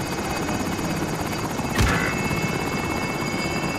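Call of Duty Warzone helicopter with a constant loud rotor hum and whine, plus a brief thump partway through.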